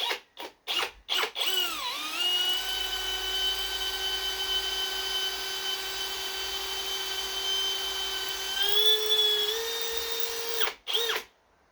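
An electric drill bores holes into a Chevy engine block for a power steering pump on a 1963 Impala, starting with a few short bursts and then holding one loud, steady, high whine for about nine seconds before cutting off.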